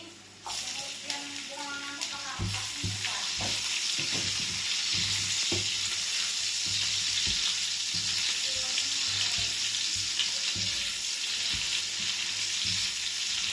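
Ginger and garlic sauté in a pan for a fish sarsiado, a loud continuous sizzle with rhythmic clattering stirs close up throughout.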